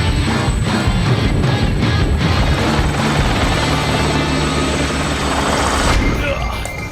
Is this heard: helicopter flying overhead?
yes